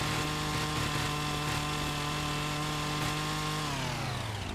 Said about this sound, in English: Really should not be walking up this tree with a running chainsaw